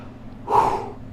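A single breathy exhale during a V-sit exercise, close and clear, swelling briefly and then fading.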